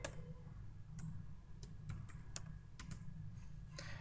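Keys tapped one at a time on a computer keyboard while a mobile number is entered, roughly a dozen light, separate clicks in an uneven rhythm over a soft, steady room hum, close but quiet, with no talking.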